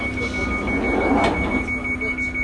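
Steady rumbling drone of a London Underground Northern Line train in motion, with a constant high electrical whine running through it.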